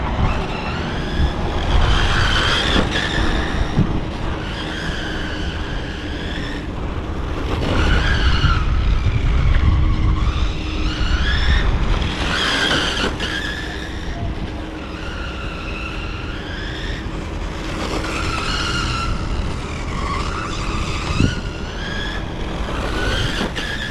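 Tires on an MJX radio-controlled Citroen C3 or VW Polo model car skid repeatedly, with sharp squealing screeches recurring every few seconds over a steady motor whine.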